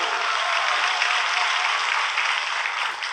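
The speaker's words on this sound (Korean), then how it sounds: "박수!" A political talk audience breaks into steady, dense applause, a loud, sustained wash of many hands with no break in it.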